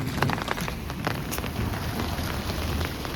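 Heavy rain pours down in Dharamshala as a steady, dense hiss that stays loud and close from start to finish, with no voices.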